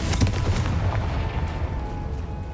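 A Confringo blasting spell explodes in Hogwarts Legacy with a loud, close boom, then a dense rumbling roar that slowly fades over a couple of seconds.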